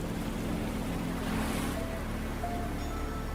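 Waves lap continuously at a Tampa waterfront along Bayshore, a steady wash of water with a faint low boat-like hum underneath and no voices.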